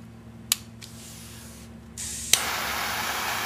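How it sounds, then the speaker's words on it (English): A Colibri Boss cigar lighter clicks and ignites into a single torch flame, which holds as a steady, close, soft jet-like hiss after a couple of sharp clicks. "See, the strong flame is a single torch flame."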